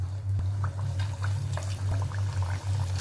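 Shaped potato hearts slide into hot oil on a medium flame and set off a continuous crackling sizzle over a steady low hum.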